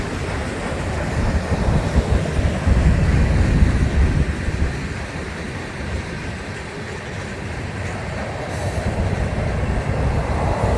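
A freight train carrying intermodal stack containers rolls past close by with steady rumbling and wheel noise, slightly louder early on and easing off before rising again, with no voices.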